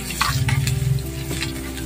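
Ginger sizzling as it is sautéed in a pan for beef broccoli and carrot, with a steady close frying hiss and a short burst of stirring near the start.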